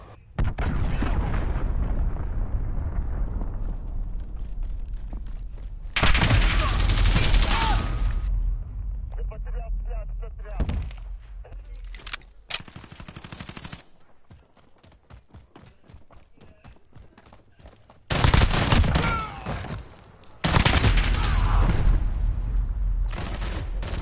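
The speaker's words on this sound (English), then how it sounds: "Allied cruise missile launched." Call of Duty: Modern Warfare battle with a cruise missile launch, heavy explosions and gunfire: loud rumbling blasts and dense bursts of fire come in waves, with rapid crackling shots between them and voices speaking now and then.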